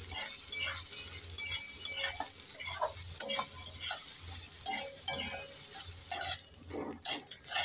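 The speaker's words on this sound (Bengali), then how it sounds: "এবার ওই তেলের মধ্যেই সোয়াবিনগুলোকে ভেজে নেব। একটু নেড়ে চেড়ে ভেজে নেব।" Soybean chunks fry in oil while a utensil stirs them around the pan, giving steady sizzling with repeated scraping and clinking strokes at close range; no voices are heard.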